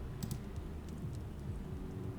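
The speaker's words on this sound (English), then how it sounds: "Here's some heavy typing going on." Heavy typing on a computer keyboard in a vampire therapist video game, a steady run of close, muffled keystrokes over a low hum, with no voices.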